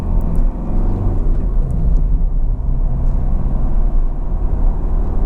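A Ford Fiesta 1.4 TDCi diesel engine idles evenly with a steady low rumble, continuous and close with no revving or voices.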